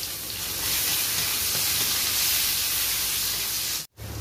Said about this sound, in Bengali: পেঁয়াজটা হালকা করে একটু ভেজে নিয়ে